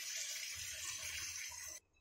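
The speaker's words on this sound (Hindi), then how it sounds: "अब हम इसमें ऐड कर लेते हैं पानी।" Water poured into kadhai chicken masala in a cooking pan, a steady close hiss and gush of liquid lasting nearly two seconds before stopping abruptly.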